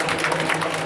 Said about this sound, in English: Come on, a round of applause for these costumes